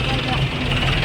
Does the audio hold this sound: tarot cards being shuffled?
no